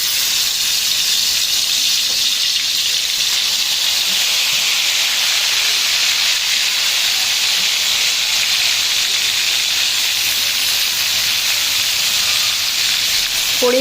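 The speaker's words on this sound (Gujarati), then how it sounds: "હવે આપણે એને તેલ મૂકીને થોડી વાર ફ્રાય કરી લેશું, પછી શેકી લઈશું।" Chicken leg pieces half-frying in hot oil give off a steady, loud hiss and sizzle that runs unbroken and even throughout.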